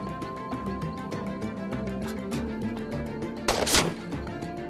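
Gunfire in The Walking Dead: 400 Days crackles in rapid repeated bursts over game background sound, with a louder blast near the end.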